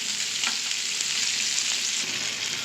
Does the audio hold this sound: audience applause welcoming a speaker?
no